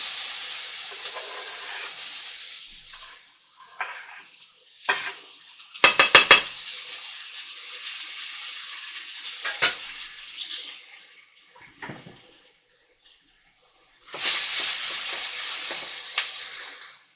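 Onion, ginger and garlic cook in a pan, giving bursts of hissing sizzle broken by quiet gaps and a few sharp clanks of a utensil against the pan, with a loud steady sizzle returning at the end.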